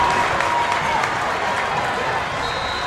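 Home crowd noise at a high school football game between Iowa Colony and Richmond Randle, a steady dense roar of cheering and clapping filling the stands, loud and continuous throughout.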